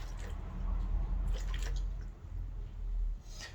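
Water, 150 grams measured out for a bread sponge, trickles and splashes into a mixing bowl in a home kitchen with soft liquid gurgling and drips, close and moderately loud, without talking.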